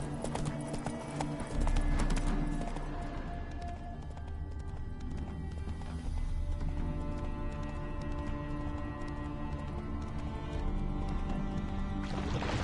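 Roach, Geralt's horse in The Witcher 3, runs with continuous clip-clop hoofbeats over game music and ambience, steady and moderately loud with no pauses across the stretch.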